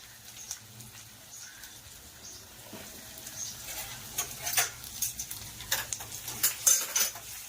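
Tadka of chilli and turmeric crackles in hot oil, a steady low sizzle with sharp pops and spits growing busier toward the end, heard close with stirring and no talking.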